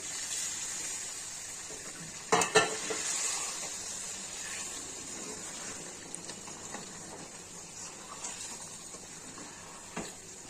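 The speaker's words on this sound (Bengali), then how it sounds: "এখন আমি অল্প করে জল দিয়ে দিচ্ছি।" Water poured into a sizzling yogurt chicken curry gravy in a home kitchen, giving a steady hiss and steam sizzle throughout with a brief louder burst of spatter early on and faint stirring clinks.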